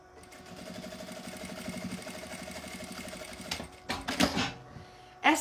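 A sewing machine stitches the seam of a fabric multipurpose organizer basket, its steady rapid needle rhythm running for over three seconds before stopping, followed by a few clattering handling knocks.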